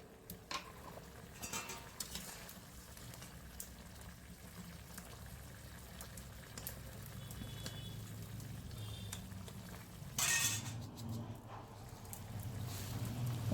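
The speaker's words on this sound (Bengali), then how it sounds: "দেখুন বন্ধুরা, ঝোলটা খুব সুন্দর ফুটে উঠেছে।" A bhetki fish and cauliflower curry bubbles in a pot with a faint, low simmering gurgle that grows slightly louder, plus a brief clink of cookware.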